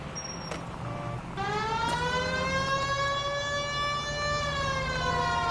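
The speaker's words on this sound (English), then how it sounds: "One of the very few times I use my siren." A police car siren wails in the 1940s Los Angeles crime game L.A. Noire, starting up after a brief click and then holding a loud, rising and falling tone close by over engine rumble.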